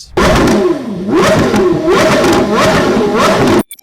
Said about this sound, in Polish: najpiękniejsze, co Carrera GT ma do zaoferowania samą sobą, to nieziemski dźwięk silnika V10